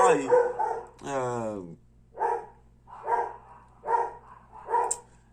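Several barks from a nearby dog, spaced about a second apart, follow a brief whine. The barks stand out over a low steady hum.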